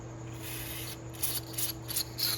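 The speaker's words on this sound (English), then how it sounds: "Okay, so we're spraying out the middle." Steady hissing spray of water forced through a Honda XL250R motorcycle part, with a low mechanical hum underneath, swelling in a few short bursts toward the end.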